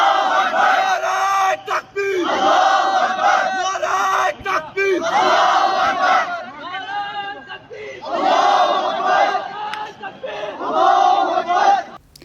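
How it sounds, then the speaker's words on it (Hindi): A large crowd of students at NIT Srinagar chants religious slogans in loud, rhythmic bursts of massed voices, each phrase yelled in unison with short pauses between repetitions. "कहीं सर तन से जुदा के नारे लग रहे हैं, कहीं नाराए तकबीर लग रहा है"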